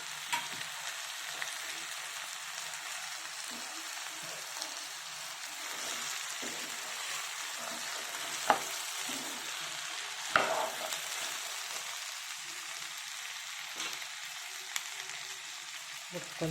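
Chopped mixed vegetables with eggplant pieces, turmeric and chili powder sizzle in a pan for a mixed veg curry, a constant soft frying hiss broken by a few sharp clicks and scrapes of stirring.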